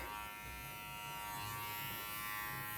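Electric hair clippers cutting texture into a bob haircut, a close, steady buzzing hum that runs without a break.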